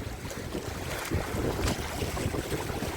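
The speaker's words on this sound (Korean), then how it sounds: "아, 바람 장난 아니네요." Strong gusting wind buffets the microphone on a seaside breakwater during float fishing, a steady loud roar with surging peaks and likely swell beneath, no voices.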